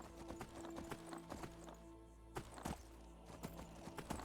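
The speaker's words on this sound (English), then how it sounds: "I can summon a horse anywhere I want" A summoned horse gallops in Skyrim, its hooves clip-clopping in a quick, steady rhythm close by over a tonal background, with a brief whinny possible.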